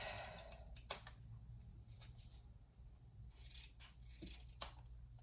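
Scissors snip off excess material while a basket is being made, a faint soft cutting and rubbing texture with two sharp clicks of the blades closing, quiet and close throughout.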